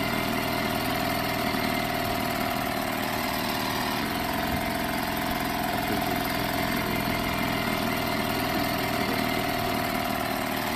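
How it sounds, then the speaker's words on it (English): Loud, steady idling of a boat engine, a continuous mid-pitched rumble with constant vibration that holds at the same level throughout, with no voices over it. "this boat's very loud"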